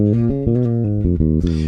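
A muted, dark electric bass, a Jazz Bass with the tone control fully off on a .047 capacitor, plays a short run of low notes alone, each one round and dull with the treble rolled off.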